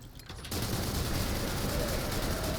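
Sustained automatic gunfire in The First Descendant shooter game starts abruptly and runs as a loud, continuous burst of rapid shots until the end.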